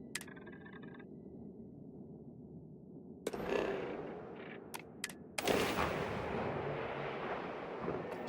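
Shotgun blasts in the space game Starfield: two loud, sharp bursts around the middle with a decaying rumble after each, over a low ambient hum.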